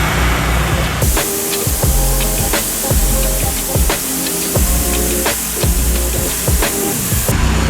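A pressure washer surface cleaner runs across a driveway with a loud, steady roaring spray hiss, close up, with a continuous engine drone and rattling debris beneath it. No one speaks.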